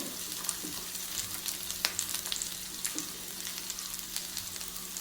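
Green chilies, ginger, garlic and turmeric powder frying in a pan for a simple vegetarian dish, a steady close sizzle with scattered crackles and a few sharp spatter pops, no voices.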